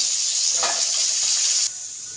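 Black cumin (nigella) seeds sizzle loudly and steadily in hot oil for a fish curry, a dense close hiss that drops off sharply near the end.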